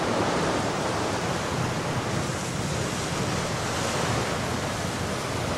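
Ocean waves wash onto a beach at Santa Barbara in a continuous, dense roar of surf that holds steady and fairly loud throughout, with no voices.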